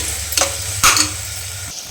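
Ginger garlic paste fries in a pan with a steady close sizzle, broken by a couple of brief scraping stirs and a clank of the utensil against the pan.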